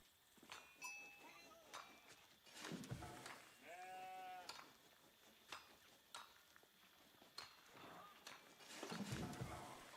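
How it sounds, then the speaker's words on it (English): Sheep bleat in the Age of Empires strategy game, giving a few distinct wavering calls at moderate volume among game clicks and effects, while a commentator talks over them. "hearing some sheep come on in and get brought closer to those scouts"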